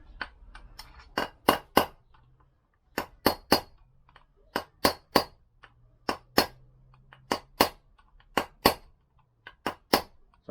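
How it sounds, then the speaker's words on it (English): A hammer repeatedly drives a bearing home on a Lambretta scooter's hydraulic upgrade, sharp metallic bangs landing in irregular bursts of two or three, loud and close with quiet gaps between. "you're not banging anything but the outside edge of the bearing"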